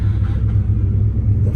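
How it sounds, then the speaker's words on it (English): A cheap little car fitted with a racing muffler idles nearby, giving off a steady, loud low rumble with no talk over it. "This is like the cheapest little car you ever seen. It's got some racing muffler on it."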